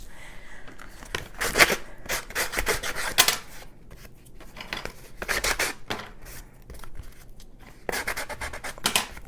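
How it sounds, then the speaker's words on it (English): Repeated bursts of rough scraping as sandpaper is rubbed back and forth in short strokes on a paper junk-journal folder, close and fairly loud, with quiet gaps between passes. "I know the sandpaper gets loud though."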